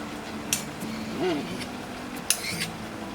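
Sweet corn, salt, pepper powder and a teaspoon of butter stirred together in a bowl, with a few light clinks of a spoon against the bowl and soft scraping between them, and faint voice sounds in the background.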